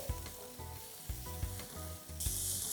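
Onions with salt sauté in a pan for misal, a close, steady sizzle broken by repeated scraping stirs of a spoon against the pan, growing brighter and hissier near the end.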